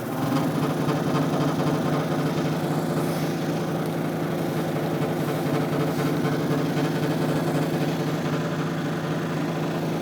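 A lapidary polishing wheel, a 280-grit wheel, runs while shaping a free-form cabochon of Brazilian agate, giving a steady, even motor hum with a grinding buzz that holds constant throughout.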